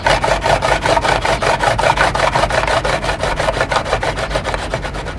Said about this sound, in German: Und die Radieschen, die reiben oder hobeln wir uns jetzt ein bisschen runter.